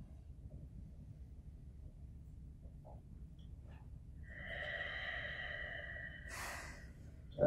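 Slow deep breaths during an intermediate core-strength yoga session, soft and close, with a drawn-out airy exhale swelling in the middle and fading away; no talking.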